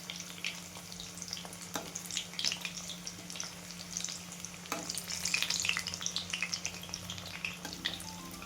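Spinach vadas deep-fry in hot oil, a continuous bubbling sizzle with crackles that swell louder toward the middle, plus occasional stirring clinks; no voices.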